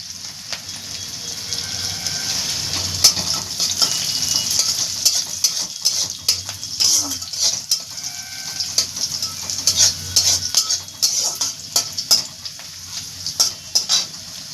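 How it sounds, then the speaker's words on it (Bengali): Dried and green chilies sizzle steadily in hot oil for vegetable dal while a utensil stirs and scrapes the pan in repeated strokes. The frying is close and fairly loud, with no talking. "দেখো দেখছো একদম ভেজে নিচ্ছি কি সুন্দর যত ভাজবে তত সেটা ভাল লাগবে"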